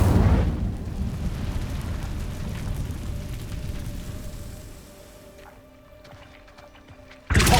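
Incendio fire spell blasting in Hogwarts Legacy, a roaring burst of flame that rumbles for several seconds, then fades to quiet before another sharp burst at the end.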